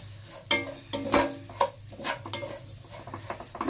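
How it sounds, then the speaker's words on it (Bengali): Flattened rice (chira) stirred in a frying pan while preparing an oats snack, with a few sharp utensil clinks and scrapes against the pan over a low, steady background. "তারপর চিড়েগুলো দিয়ে দিলাম।"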